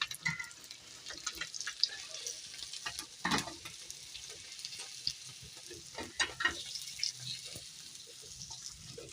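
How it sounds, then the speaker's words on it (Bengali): Kalbaush fish sizzles in hot oil in a pan, a continuous frying hiss broken by scattered clatters and stirring scrapes, fairly faint and with no talking. "বাকি মাছগুলো এভাবে আমি ভেজে নেব।"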